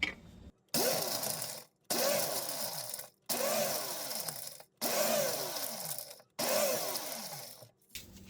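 A blender grinds dried pumpkin shards in five short, loud bursts with brief pauses between them, the motor pitch dropping as each run strains against the hard pieces.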